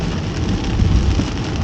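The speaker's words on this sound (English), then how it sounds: "I didn't know it was gonna rain this much, so I'm doing chores instead." Heavy rain falls outdoors in a loud, continuous roar with a deep rumbling low end, no voices, just the steady wash of the downpour.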